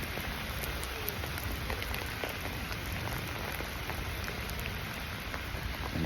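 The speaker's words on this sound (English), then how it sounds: "So now it's raining as hard as it ever does here." Heavy rain pours down in Kensington Gardens, London, as a dense, steady hiss of drops pattering on surfaces nearby. It holds constant throughout with no talking.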